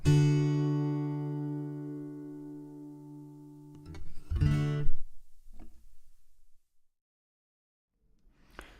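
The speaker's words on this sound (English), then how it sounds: "And this is the chorus." A single strummed chord on an acoustic guitar through an AER Compact 60/4 acoustic amp's chorus effect rings out with a shimmering, wavering tone and slowly fades, followed by a few brief muted strums and taps.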